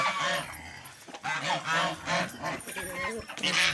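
A drake and other ducks and geese call loudly in a noisy village flock, honking and quacking over one another almost continuously.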